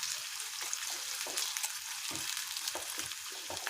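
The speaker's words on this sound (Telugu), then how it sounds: "ఈ ఆనియన్ని ఒకసారి కలిపేసుకుందామండి" Onions fry in oil with green chillies while being stirred, a continuous soft sizzle broken by irregular scraping and clattering strokes from a spoon against the pan, with no one speaking.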